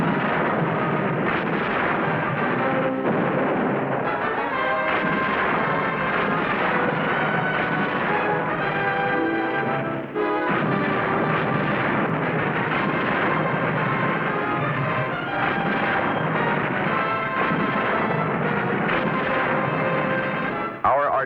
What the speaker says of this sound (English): Artillery fires so fast and often that they burn out some of their gun barrels.